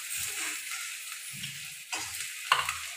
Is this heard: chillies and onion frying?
yes